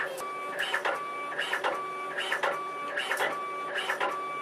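A Fargo HDPii dual-side financial card printer runs through a card print job, giving a steady mechanical whir broken by repeating bursts of clicking and feed motion roughly every second, close and alone.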